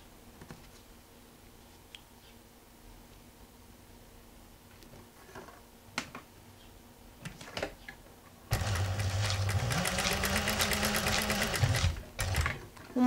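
A sewing machine stitches a seam on a patchwork quilt block, running steadily and loudly for about four seconds after a stretch of quiet handling noises.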